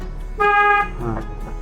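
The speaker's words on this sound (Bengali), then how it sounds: "মোড়ের মধ্যে হর্ন বাজাতে হবে" A car horn sounds one short, loud, clear honk during a driving lesson on a local road, with a little low vehicle rumble and a faint voice around it.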